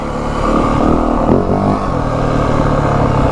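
A 2025 Yamaha WR450F dirt bike engine roars at steady high volume, with a short revving surge partway through and no speech.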